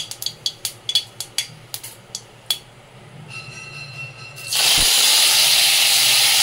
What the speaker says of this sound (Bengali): অল্প একটু তেলে রাই সর্ষে, ছোট দানার যে সর্ষেগুলো হয় সেই সর্ষে দিয়ে নিলাম। এবার একটু কারি পাতা দিয়ে নেব।